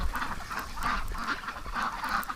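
Ducks in a snowy winter farmyard honk and quack in repeated loud bursts, roughly every half second, calling close by and alone after being startled by an animal coming out of the barn.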